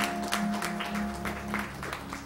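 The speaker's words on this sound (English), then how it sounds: "Come on, clap your hands." Church congregation at a Baptist service clapping hands in a steady rhythm, likely along with music. The claps are fairly quiet and even over sustained musical tones.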